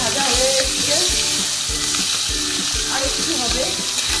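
Hilsa fish head frying in a pan, a loud close crackling sizzle running throughout with rhythmic low bumps of stirring or pan movement, no speech.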